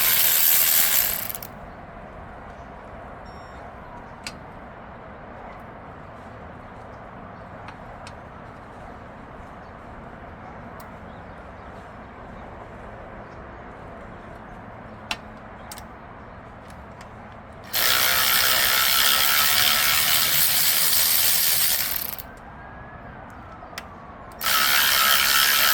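A ratchet socket wrench works bolts out of an LQ9 engine in short bursts of rapid, close, loud clicking separated by long quiet stretches with faint workshop clinks.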